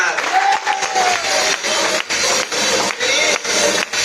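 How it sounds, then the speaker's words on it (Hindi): Audience at a Dauphin Travel Marketing event in Shamli applauding loudly, a dense, steady wash of many hands clapping that continues for about four seconds, with a few brief dips. "मेरी बड़ी बहन आई हुई पर उसके लिए जबरदस्त तालियां"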